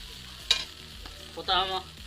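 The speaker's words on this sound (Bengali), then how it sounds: "গাইস এবার মোটামুটি আমাদের চাউমিনটা ভাজা প্রায় হয়ে আসছে।" Egg chow mein stir-fried in a pan, heard as quick spatula scrapes and tosses over a low sizzle, with two brief louder strokes in a short burst.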